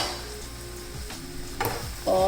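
Chicken fries in a pan with a steady, close sizzle after the lid is lifted, with a few soft clinks of utensils along the way.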